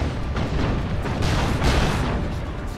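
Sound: autocannon fire in Warhammer 40k: Dawn of War 2 video game

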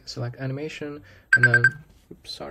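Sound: alarm going off

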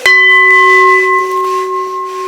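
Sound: meditation bell ringing

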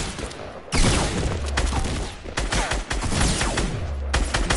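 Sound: shotgun fire in Fortnite video game

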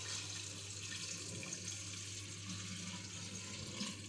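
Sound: measured drinking water being poured in for making vinegar

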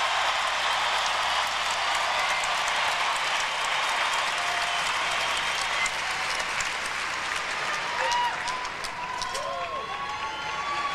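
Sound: figure skating crowd applauding medalists

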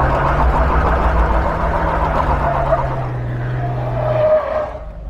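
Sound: Jeep Wrangler 4.6 stroker engine doing a burnout

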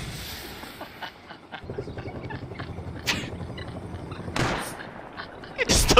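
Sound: gunfire in the video game Rust

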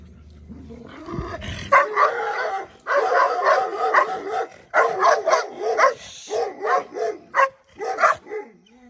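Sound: dog barking

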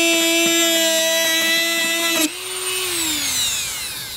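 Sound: Dremel cutting a hole in plastic fish trap

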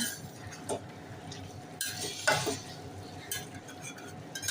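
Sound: stirring cooked masale bhat rice in a pot

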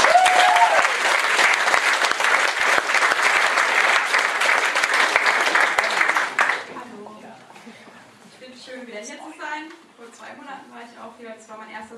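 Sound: audience applause at a poetry slam

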